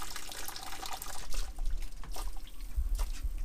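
Cooked spaghetti lifted from a pot on a boat's cooker drips and trickles water back into the pan, a close, steady patter of small splashes with low rumbling underneath.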